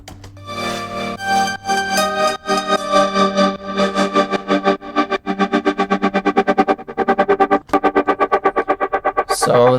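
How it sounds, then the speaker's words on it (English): A fluttering synth in a melodic trap song, modulated by LFOs and drenched in reverb, pulses in rapid rhythmic bursts that speed into a tight stutter, loud and distorted, with no voices. "we are using LFOs and reverb to create this fluttering sound"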